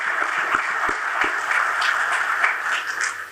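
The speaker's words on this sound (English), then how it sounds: "we can clap for that" An audience at a football coach's introductory press conference applauds, steady moderate clapping from many hands at mid distance, without speech over it.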